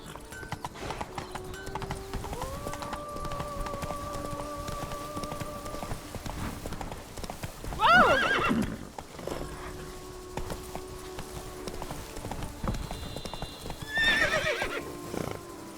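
Roach the horse in The Witcher 3: Blood and Wine trots with steady hoof clip-clops over sustained game music, then gives two loud, shrill neighs, one near the middle and another toward the end.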